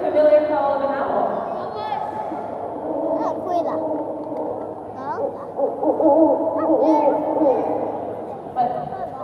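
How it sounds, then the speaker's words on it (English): An owl hoots at night at Night Safari Singapore, with repeated hollow calls over a continuous background of a voice and other people talking. "it's the familiar call of an owl."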